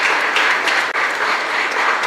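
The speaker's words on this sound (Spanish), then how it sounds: "fuerte aplauso para todos ellos también" Steady applause from a church congregation at Mass for the altar servers, dense continuous clapping filling the short stretch without pause.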